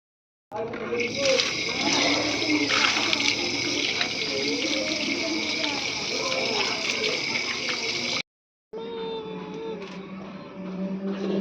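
Running water splashes and gushes steadily while cut hilsa fish pieces are washed in a home kitchen sink, a close continuous wash that halts briefly near the end before resuming.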